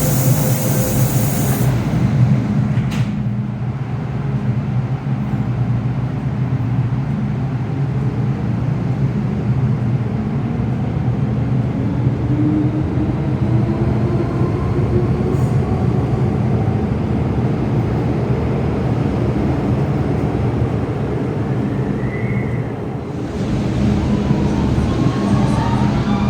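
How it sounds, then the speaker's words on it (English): A Hong Kong MTR train pulls into a station platform with a steady, loud low rumble and broad roar that holds throughout, swelling slightly near the end. "The train to North Point is arriving."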